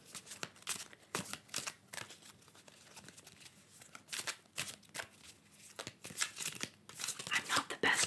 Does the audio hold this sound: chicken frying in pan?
no